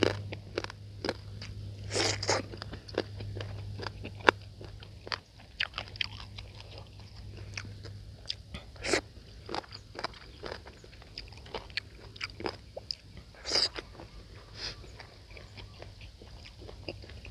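Crispy fried squid being bitten and chewed close up, with repeated sharp crunches in an uneven rhythm over a steady low hum, no talking.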